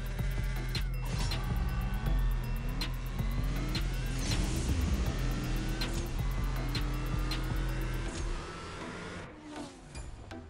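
A Volkswagen Jetta race car in the CSR2 mobile racing game roars through a drag race, its engine climbing in pitch through several gear changes against a steady high whine, then fading toward the end.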